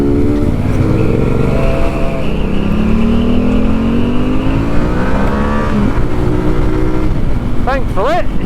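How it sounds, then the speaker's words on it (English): A motorbike passes on the road, its engine note rising and falling close by under steady riding noise from a T7 motorcycle, with voices heard partway through. "there's a bike coming"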